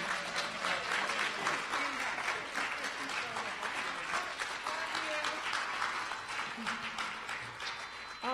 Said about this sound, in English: can y'all just give her a round of applause